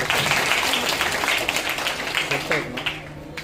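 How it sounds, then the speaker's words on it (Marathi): Audience at a children's poetry event at a village community gathering clapping loudly and continuously, a dense crowd applause with voices mixed in underneath. "टाळ्या वाजवून त्यासाठी जोरात"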